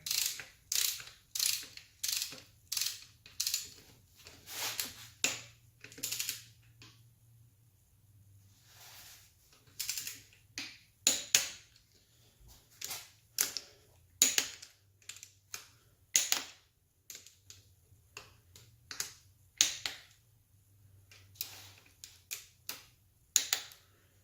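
A ratchet wrench tightens the cylinder head bolts on an LS/LQ4 V8 engine during the first torque pass, with repeated close bursts of rapid clicking separated by short pauses as each bolt is turned. No one speaks.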